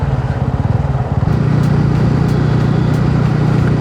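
A TVS Ronin motorcycle engine running up close, a loud throbbing putter that settles into a steady drone, no talking.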